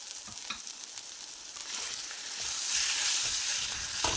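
Mashed potato, boiled with salt and turmeric, is stirred in a hot frying pan for an egg-and-potato snack. A hissing sizzle swells louder as the mixture is turned, with soft scraping strokes from the spoon and no voices.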